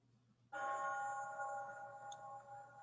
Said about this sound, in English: What's going on with these bells?